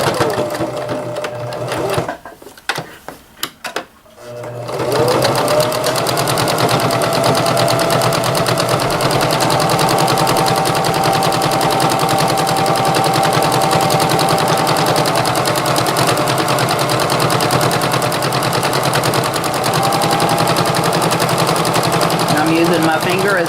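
After a few brief starts, a sewing machine runs loud and steady at close range, stitching an apron in a continuous fast mechanical rattle.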